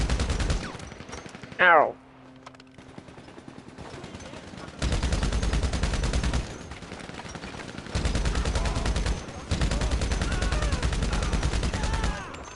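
Gunfire in the GTA Online video game: long sustained bursts of rapid shots, loud and dense, broken by short pauses, with a brief yelp of pain from a player early on.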